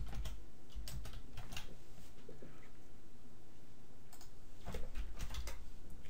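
Typing on a computer keyboard in a quiet room: soft, close key clicks in short irregular bursts, with a pause in the middle before a final quick flurry of keystrokes.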